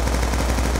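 Rapid automatic fire from a bare PDW-57 with no attachments in Black Ops 2 on the Slums map: a dense, continuous burst of shots at steady rhythm, loud and close, with no talk over it.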